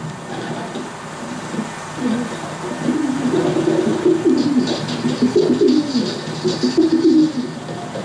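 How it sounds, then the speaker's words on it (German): A racing pigeon coos at its loft, with soft, throaty coo phrases that repeat and swell over a steady low background hum, fairly close and alone without talk. "auf die Taube zu warten."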